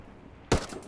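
A single sharp TAR-21 assault rifle shot rings out in Ghost Recon Wildlands, a loud sudden crack halfway through after near-silence, followed by a lingering tail of echo.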